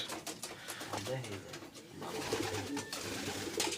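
A Giribaz pigeon coos in low, rolling calls, close by, while people talk over it in an indoor setting.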